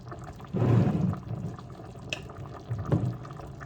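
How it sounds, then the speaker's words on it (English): Water is poured into a pot of beef stew on the stove, a brief gurgling splash that swells, fades, then returns for a second short pour, close and fairly loud. "I just put a little bit more water in here"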